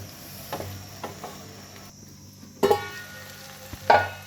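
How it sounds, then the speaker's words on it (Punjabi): Potatoes and okra cook uncovered in a pan, a soft continuous sizzle broken by light spatula stirs and two louder scraping clatters late on, close by with no talk. "ਤੇ ਹੁਣ ਆਪਾਂ ਇਹਨੂੰ ਮਿਕਸ ਕਰ ਦਿਆਂਗੇ ਮਿਕਸ ਕਰਕੇ ਫਿਰ ਆਪਾਂ ਇਹਨੂੰ ਥੋੜਾ ਜਿਹਾ ਖੁੱਲਾ ਪਕਾਵਾਂਗੇ"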